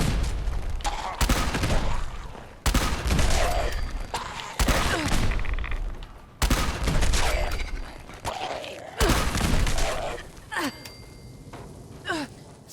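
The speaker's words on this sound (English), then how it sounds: "Good thing about the quad broadsider, though, you don't have to reload it 4 times." In the video game Fallout 76, a quad broadsider cannon fires four heavy booming blasts in succession during a fight with ghouls, each followed by a rumbling decay, then a few sharper cracks close up.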